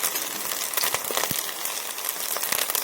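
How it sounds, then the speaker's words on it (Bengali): Leftover-rice pakoras frying in a shallow layer of oil, a steady close sizzle with scattered sharper crackles and pops throughout, no voices. "আস্তে আস্তে এমনি করে ধৈর্য ধরে এগুলোকে ভাজতে হবে উল্টে পাল্টে"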